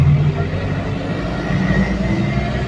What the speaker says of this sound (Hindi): बस से जा रहे, बस की भी आवाज़ सुनते होगा गाइज, आवाज़ भी बहुत है गाड़ी में।